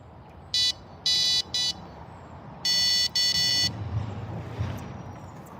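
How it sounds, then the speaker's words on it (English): Electronic fishing bite alarms on a creek bank give several sharp, high-pitched beeps in quick bursts: one short, two longer, another short, then two long tones, all over quiet outdoor background. "I do have the bite alarms on, so you can hear them."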